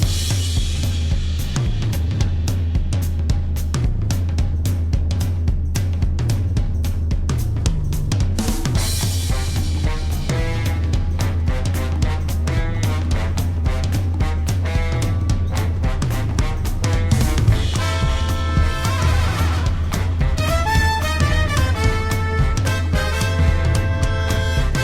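An orchestrion roll track from the video game Final Fantasy XIV plays as full, dense music with a steady low bass line, loud and continuous throughout.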